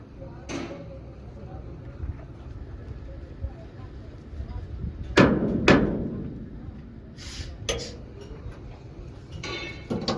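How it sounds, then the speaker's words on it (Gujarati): Sledgehammer blows struck while removing a vehicle's leaf spring during a suspension repair, a few loud sharp metallic impacts spaced apart over steady background noise. "તો જો હાલે છે એમાં ઘણ મારે છે"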